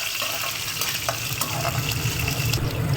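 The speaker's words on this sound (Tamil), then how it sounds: "இதை நல்லா இனி வறுக்கணும்" Ingredients for lemon sevai frying in a pan, a loud continuous sizzle with scraping stirs, close and alone.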